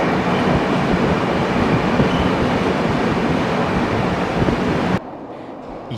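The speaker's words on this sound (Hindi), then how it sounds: "और ये है करबूडे टनल, जो कि कोकण रेलवे का सबसे लंबा टनल है।" A train roars steadily through the 6.5-kilometre Karbude tunnel on the Konkan Railway between Bhoke and Ukshi, a dense, loud, continuous rumble. It drops sharply to a quieter hum near the end.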